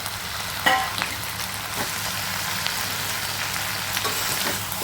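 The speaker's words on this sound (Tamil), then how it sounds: "எல்லாத்தையும் நம்ம நல்லா மிக்ஸ் பண்ணிக்கலாம் இப்போ இதில் நம்ம ஃப்ரை பண்ணி வச்சுருக்கிற இந்த முட்டை" Fried egg pieces stirred into a sizzling Manchurian sauce in a hot pan, a steady frying hiss with a few clinks of the spoon, near and continuous with no talking.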